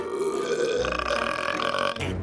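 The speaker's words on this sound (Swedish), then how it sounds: "Alltid med dem rap." A long, loud, rumbling cartoon burp from a Tom & Jerry character, a sustained guttural belch lasting about two seconds with a sharp tail at the end, heard alone without talk.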